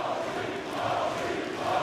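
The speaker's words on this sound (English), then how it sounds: "Walshy, Walshy is the chant of the Copper Box crowd" A boxing crowd in the Copper Box arena chants a fighter's name, a dense, steady roar of many voices filling the hall without a break.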